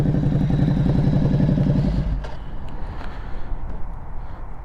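A Ducati 1260 motorcycle with an aftermarket Aero exhaust rumbles loudly close by with a throaty, rapid beat, then drops off to a quieter, rougher idle.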